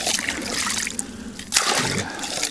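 Cold water being scooped and poured at a snowy forest cabin, a steady close trickle and splashing that surges briefly midway, with no talk.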